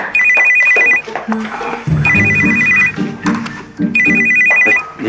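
A telephone rings in three evenly spaced electronic trills, loud and close, with low indoor background sounds between the rings.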